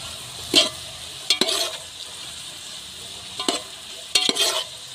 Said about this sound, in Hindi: अब इसको हम अच्छी तरह भून लेंगे